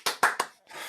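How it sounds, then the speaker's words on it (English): Three sharp, close hand claps in quick succession, then a short burst of softer, smeared clapping, heard over a compressed streaming audio link. "Mark, you got to unmute your claps"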